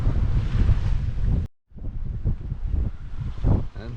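Strong wind gusts roar across the microphone on a sailboat off the Norwegian coast, with water rushing against the hull, broken by a brief dropout before the blustery noise resumes.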